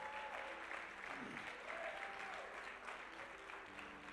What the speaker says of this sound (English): You ought to be applauding yourself after that.